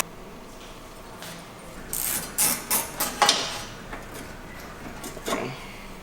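Spanners work on suspension arm bolts with a short burst of metallic clicks, ratcheting and clinks, a few seconds of close, moderately loud tool noise in a quiet space.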